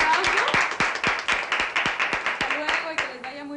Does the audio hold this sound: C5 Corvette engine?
no